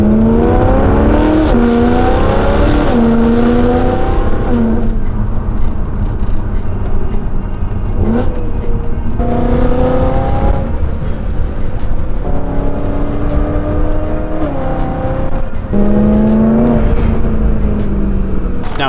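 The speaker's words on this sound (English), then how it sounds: "let's get some driving clips of this car" High-mileage BMW E92 M3 being driven, its engine revving up and down repeatedly through the gears, loud and close throughout with no talk.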